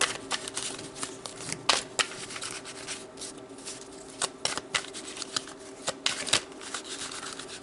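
A deck of tarot cards is shuffled close by in repeated riffles and slides, sharp papery flutters and slaps arriving in irregular bursts with no talk.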